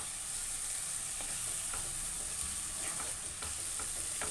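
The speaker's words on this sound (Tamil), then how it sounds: "இந்த மாதிரி கொஞ்சம் மிக்ஸ் பண்ணி அழுத்தி விட்டுக்குங்க. அப்போ தான் அந்த தக்காளி நல்லா வதங்கும்." Tomatoes stirred and sautéed in a pan for thokku give a soft, steady sizzle with faint scraping stir strokes throughout, heard alone without talk.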